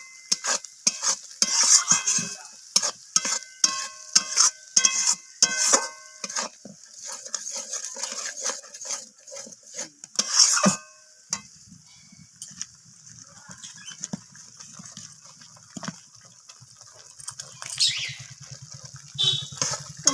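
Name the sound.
stirring spice paste cooking in a pan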